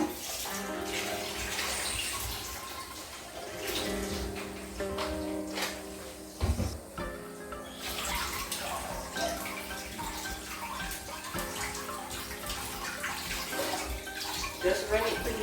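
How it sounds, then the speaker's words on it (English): Tap water runs steadily into a sink while raw fish is rinsed by hand for Jamaican-style steamed fish, with splashing and dripping shifting as the fish is moved under the stream. A person talks over it. "So guys, we're going to go ahead and wash our fish now."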